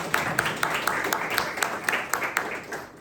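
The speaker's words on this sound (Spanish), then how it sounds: "un aplauso para todos" Applause in a classroom for fellow students after a presentation, with a steady patter of clapping and a few sharper claps standing out at an even pace, moderately close.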